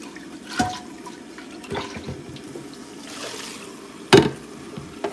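Water runs in a kitchen sink as fat is rinsed from a pan, a soft steady wash with a few sharper splashes and clanks of the pan, close by.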